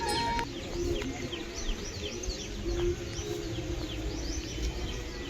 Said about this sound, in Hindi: पेड़ों की छांव में बैठकर आप पक्षियों की मधुर चहचहाहट सुन सकते हैं